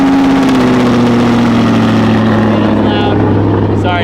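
Unmuffled V8 car engine idling close by with the exhaust open, a loud steady low rumble with a droning harmonic hum that holds for the whole stretch, with no talk over it.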